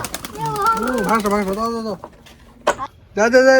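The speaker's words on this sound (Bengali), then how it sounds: "এই পায়রাগুলো কিন্তু পালিয়ে যাবে।" Pigeons released inside a house coo in soft, low, rolling bursts close by, with a person talking between and over the calls.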